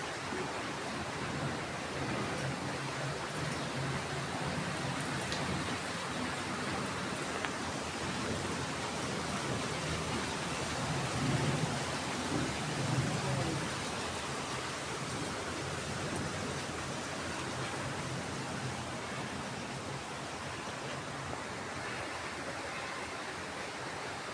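Heavy rain pours down without a break, a dense, even hiss and patter that fills the whole stretch at a constant level, with no voices over it.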